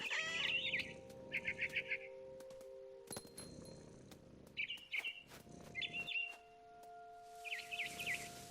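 A barn swallow at its nest in What Remains of Edith Finch chirps in several quick twittering bursts separated by pauses, with a low sustained tone and a sharp thunk between them.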